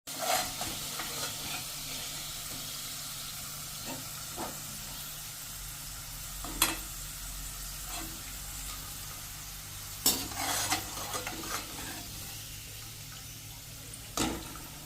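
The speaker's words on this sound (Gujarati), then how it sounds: "હવે આ વેફર આપણે એકદમ ક્રન્ચી થાય ને ત્યાં સુધી તળવાની છે" Potato wafers deep-fry in hot oil over a full flame, a steady bubbling hiss with occasional sharp clatters and scrapes, heard close and without talk.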